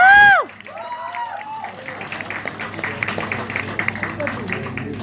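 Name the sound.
audience clapping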